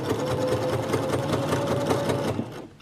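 A sewing machine runs a rapid, even stitch along a bodice seam for a Vogue 8577 dress, buzzing close and steady before stopping abruptly in the final moment.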